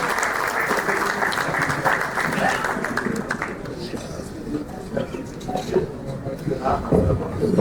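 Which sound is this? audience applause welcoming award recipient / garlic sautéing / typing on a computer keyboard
audience applause welcoming award recipient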